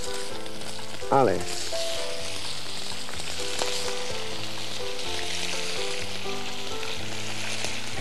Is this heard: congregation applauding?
no